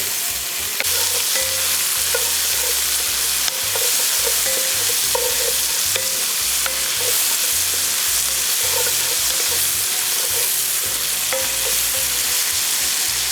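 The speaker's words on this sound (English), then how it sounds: "So let's get these mushrooms cooked down a little bit." Loud, steady sizzle of mushrooms sautéing in olive oil in a pan for chicken Marsala, with occasional stirring scrapes throughout and no voices.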